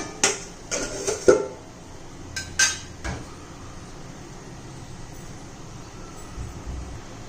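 A metal lid clanks onto a pot of rajma cooking on the stove, with a few sharp clinks and knocks in the first few seconds, then a quiet background hum.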